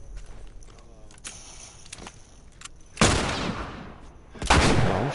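Gunfire in the video game The Last of Us, with a couple of faint clicks and thuds, then two loud close blasts roughly a second and a half apart, each trailing off with a long noisy decay.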